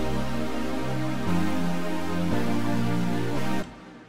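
A bright, fizzy brass synth preset in Ableton Live holds sustained chords that change three times, dense and buzzy, then cuts off near the end, with no voice.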